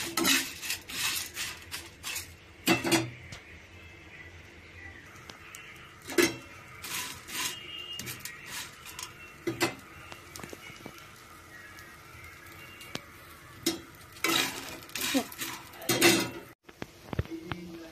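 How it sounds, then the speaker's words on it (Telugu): Bitter gourd pieces stirred with fried spices and curry leaves in a pan, with repeated scraping and clinking of a spoon against metal, spread over the clip as the mixture crackles faintly in the background. "కాకరకాయ ముక్కలు కూడా దీంట్లో వేసి మొత్తం కలిపి ఇంకోసారి వేపుకుందాం"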